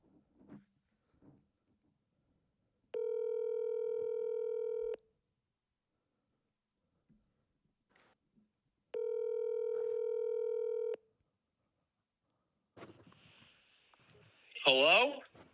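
An outgoing telephone call rings through a handset: two long, evenly spaced ringback tones separated by silence, faint clicks between them, and a voice answering at the end.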